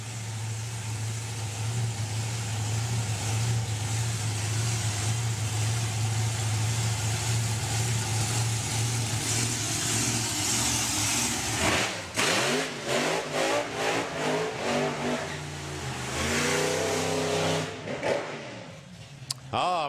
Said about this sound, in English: We got two supercharged outlaws together